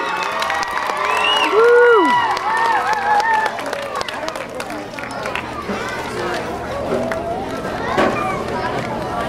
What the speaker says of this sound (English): Let's give this crew one more round of applause